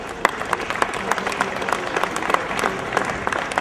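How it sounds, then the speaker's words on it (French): An audience at a shopping-centre inauguration applauds the welcome and delivery staff team, steady close clapping from a modest crowd with no break. "Je crois qu'on peut les applaudir"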